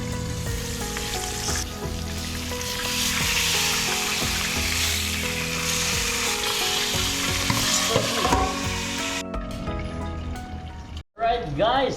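Catfish sizzles and crackles in a hot pan, a loud continuous fry with occasional stirring scrapes, while someone speaks over it; near the end the sizzle drops away briefly before a few clatters.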